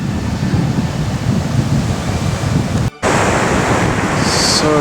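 Ocean surf rolls onto a beach in Sardinia with a loud, continuous wash of waves, heavily buffeted by wind rumbling on the microphone, with a brief dropout midway.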